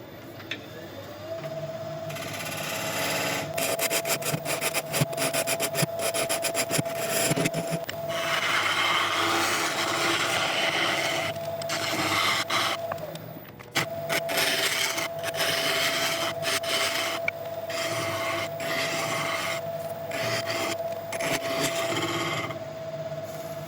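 Wood gouge cutting a curve and tenon on a spinning lathe workpiece, a steady rushing scrape with a constant motor hum beneath, broken by bursts of sharper chattering cuts and brief pauses, close and alone.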